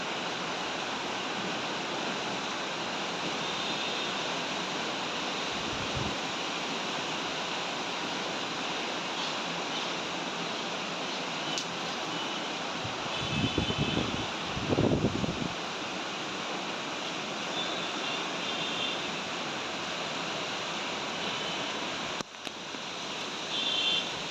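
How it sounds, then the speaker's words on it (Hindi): Strong wind and heavy rain pour down in a constant, dense roar filling the whole stretch, with a few brief low thumps of gusts or handling partway through and no talk. "यहाँ पे इतनी तेज़ हवा चल रही है कि आपको बता नहीं सकते, और बहुत तेज़ आ गई है बारिश"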